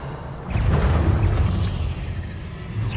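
The Revelio spell cast in Hogwarts Legacy: a deep, rumbling magical boom that swells quickly and holds for about two seconds, with a shimmering high sweep fading over it.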